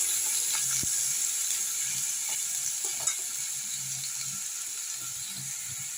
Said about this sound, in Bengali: এবার আমি আলুটাকে ভেজে নেব। আলুটাকে একটু লাল লাল করে ভেজে নেব